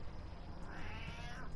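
A single drawn-out meow, quiet and slightly distant, rising and falling over a steady background of noise during a live Mortal Kombat game stream.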